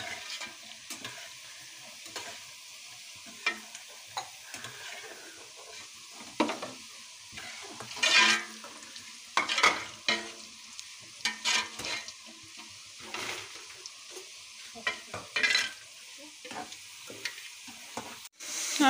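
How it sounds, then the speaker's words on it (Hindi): Chicken pieces and onions fry in a pan, with an intermittent sizzle and bursts of stirring and clattering that come and go without speech. "अब प्याज मैंने चिकन डाल दिए फ्राई करने के लिए।"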